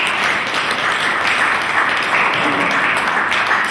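A congregation claps together at a church service, a steady even wash of applause that holds at one level throughout.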